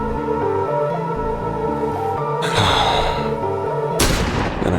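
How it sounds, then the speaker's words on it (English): A gunshot rings out in the video game I Am Your Beast over a droning musical score, a sharp crack with a rushing tail, followed by a second louder blast near the end. "Then I heard the gunshot."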